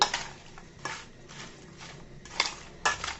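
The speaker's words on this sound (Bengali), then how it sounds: "সুন্দর করে চিনি মিশিয়ে নিচ্ছি।" A spoon stirring sugar into raw mango pickle in a bowl, giving soft scraping and clinking strokes that recur every half second or so, with a few sharper knocks against the bowl, close and fairly quiet.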